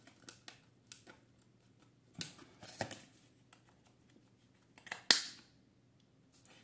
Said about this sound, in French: Ça coupe super bien.